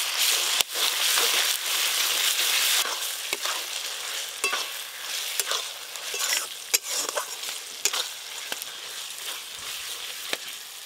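Chopped onions sizzle steadily in hot oil after ginger and garlic paste is added, with a loud, continuous hiss broken by sharp scraping clicks from stirring at irregular intervals.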